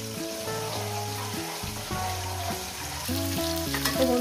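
Rohu fish frying in a pan, a soft steady sizzle running under louder background music throughout.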